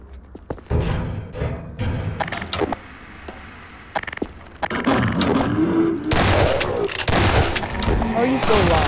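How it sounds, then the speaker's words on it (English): Rifle gunfire in Half-Life 2: Episode 1, a series of sharp, loud shots at a ladder latch, mixed with thuds and game clatter, with some voice-like sounds near the end. "Let me shoot out the latch."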